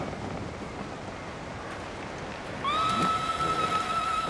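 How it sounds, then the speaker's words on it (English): A horse neighs in the open-world samurai game Ghost of Tsushima, a loud sustained whinny entering partway through over steady wind and ambient noise. "You look just like my father's horse."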